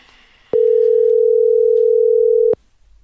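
A steady, loud telephone dial tone holds for about two seconds after the phone goes off-hook, set against faint room noise while a call is placed during a podcast recording.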